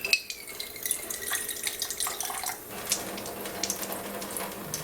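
Water runs from a NEXUS water ionizer into cups, a continuous close trickling splash with small glassy clinks, steady for several seconds and with no talk.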